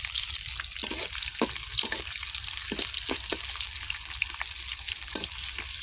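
Chopped onion fries in hot oil with cardamom and cinnamon for a biryani, a close, steady sizzle broken by several short crackling pops and stirring scrapes, with no voices.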